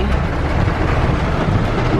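Steady heavy rain pours loudly and close, a dense continuous wash of noise with wind rumble buffeting the microphone and no voices over it.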